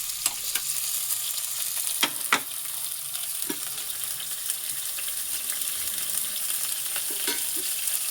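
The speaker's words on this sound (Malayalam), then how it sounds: "പിന്നെ പച്ചമുളക് ഇത്രയും ആദ്യം ഇടുക. എന്നിട്ട് ഒന്ന് നന്നായിട്ട് വഴറ്റുക." Shallots, garlic and green chilli sauté in a pan for a fish curry, giving a steady close sizzle with occasional sharp stirring clicks and scrapes, and no voices.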